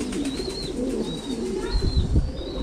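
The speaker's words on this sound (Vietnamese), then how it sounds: "như mình nãy mình có nhắc đến chim bồ câu gà Mỹ thì đây có một cặp chim bồ câu gà Mỹ này." A pair of American giant pigeons coo softly close by, with low, throaty rolling calls repeating over a few seconds against light background noise.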